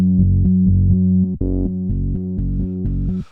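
Synthesizer bass line playing sustained low notes with the equalizer switched off, a steady repeating pattern of held tones with one brief break, loud and close with no talking.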